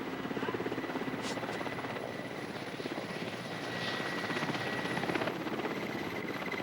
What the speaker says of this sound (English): a helicopter hovering in the treetops